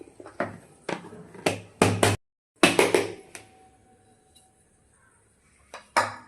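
Metal plate and tray knock and clatter as soft rava dhokla is turned out onto a plate, a series of sharp close clanks and taps with pauses between them and quiet gaps.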